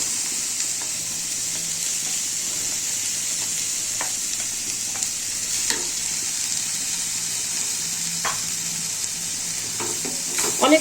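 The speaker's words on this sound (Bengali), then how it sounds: "এখন আমি বেগুন ভাজাটা দিয়ে দিব।" Eggplant fries and is stirred into methi saag in a pan, a steady broadband sizzle running throughout with occasional scraping stir strokes, close and moderately loud, no talking.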